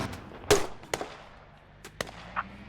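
Explosions in a tactical shooter video game: several sharp, loud bangs and cracks spaced irregularly, with quiet gaps between them.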